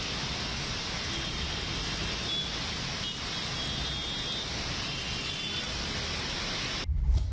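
Heavy rain pouring down in Mumbai, a dense, steady hiss of downpour on surfaces, constant and loud throughout, with a brief low thump near the end.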